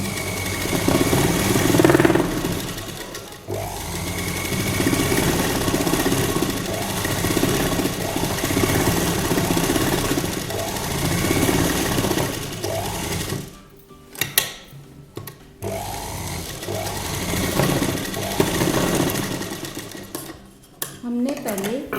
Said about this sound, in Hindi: अब हम इसको ये साइड में करके यहाँ किनारे भी एक सिलाई लगा लेंगे।